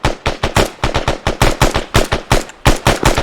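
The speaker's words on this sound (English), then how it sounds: "Hearts, hold off HE, hold off HE, just stick to small arms." Loud, close small-arms fire in a military simulation game during platoon training, a rapid run of sharp automatic shots in quick bursts with only brief gaps, and no talking.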